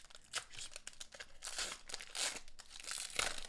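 Crinkly foil wrapper of a Lorcana Into the Inklands booster pack being torn and crumpled open, close and continuous with louder bursts of crackling, no talking.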